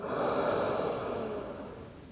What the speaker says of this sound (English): Keep breathing in and out through your nose.